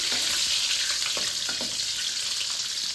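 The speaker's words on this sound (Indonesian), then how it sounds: "Sekarang waktunya kita goreng sebentar ya, supaya di sambalnya mantap" Steady, dense sizzle of eggs frying in a pan with crackling pops, continuous and close, no voices.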